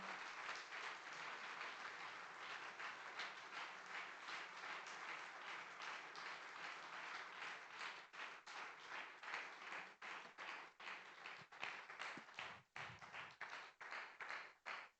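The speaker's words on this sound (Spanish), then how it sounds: "¿Cuánto le pueden dar un fuerte aplauso?" A church congregation claps, starting as a dense wash of applause and thinning into rhythmic, separate claps toward the end.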